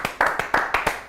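A few distinct hand claps close by during a live boxing event broadcast, about six sharp claps at an uneven rhythm, loud and separate, with no talk over them.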